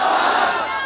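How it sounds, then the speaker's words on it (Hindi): A crowd at a political rally raises a loud, brief massed chant of the slogan Nara-e-Takbeer, many voices shouting together. "मेरे साथ नारा लगाइए, नारे तकबीर, नारे तकबीर, मजलिस इत्तेहादुल मुस्लिमीन।"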